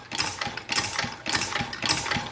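A steam engine fitted with a big stainless valve runs steadily, its rhythmic chuffing pulses repeating about every half second, close and moderately loud with a mechanical whirring underneath.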